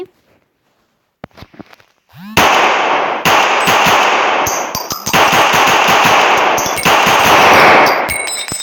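A USP pistol fires in the mobile game iGun Pro, loud sharp synthetic shots in quick succession with metallic clangs, after a few quiet clicks.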